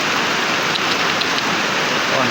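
Heavy rain pours around a house and over flooded fields, a loud, dense, unbroken hiss that stays steady and close throughout.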